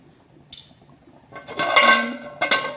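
A metal lid is set onto a pot of sardine fish curry: a light tap, then a clattering scrape and ringing clink as it settles, followed by a final knock, close and clear.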